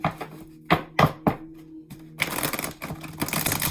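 Tarot cards are handled up close: several crisp slaps as cards are pulled, then a dense, continuous riffling shuffle that fills the final second and a half, with no talking.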